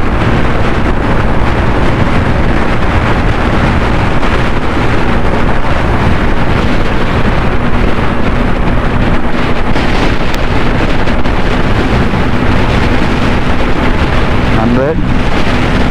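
Yamaha FZS V4 (2024) motorcycle ridden at full throttle, heavy steady wind noise buffeting the microphone with engine drone underneath, loud and continuous throughout.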